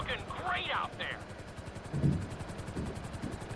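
Helicopter rotor chopping at a steady rhythm in the Grand Theft Auto flight school game, a continuous pulsing drone carried through the whole stretch with some game effects and voices mixed underneath.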